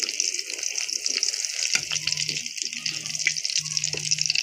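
Eggplant going into hot spiced oil for a village-style fried eggplant dish, a loud hissing sizzle with bubbling and low hums between bursts, no talk.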